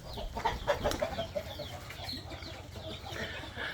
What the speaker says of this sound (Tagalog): Oh, manok oh.